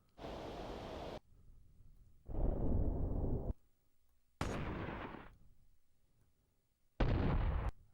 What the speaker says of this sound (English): So those 5 sounds make up the gunshot sound.